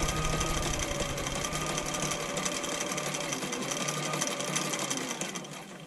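Husqvarna Viking 6460 sewing machine stitching with a very short stitch length, a steady, loud mechanical whir and rapid needle clatter running continuously close up, easing slightly at the end.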